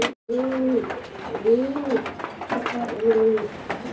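A pair of red magpie pigeons coos close by, three rising and falling calls in a steady rhythm against a faint background hiss.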